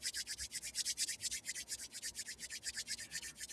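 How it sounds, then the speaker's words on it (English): Two palms rub together quickly in a steady, rhythmic back-and-forth, about eight strokes per second, close and fairly quiet with no voices. "increase the speed of rubbing of your hands a little bit more"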